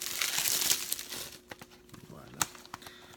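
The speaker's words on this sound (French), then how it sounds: "Je vais déballer le coffret" Plastic film is peeled and crumpled off a DVD box set up close, giving sharp crinkles and tearing snaps that settle into scattered crackles.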